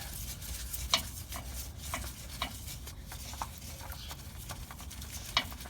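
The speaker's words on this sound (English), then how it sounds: "Here we go with removing the oil filter." Close scraping and rubbing as an oil filter is worked loose from a Nissan oil cooler, with irregular clicks and knocks standing out over a steady low rumble, no voices.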